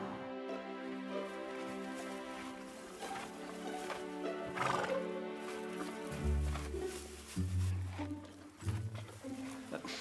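A horse neighs and whinnies in a drawn-out, wavering call over a steady background with a low droning hum, followed by short snorts and shuffling movement near the end.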